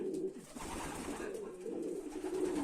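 Pigeons coo softly and repeatedly against a steady background murmur, a low rolling cooing that continues throughout.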